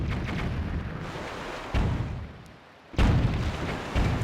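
Bomb blasts in Zelda: Wind Waker, several heavy booming explosions in quick succession, loud and close, with rumbling noise between bursts.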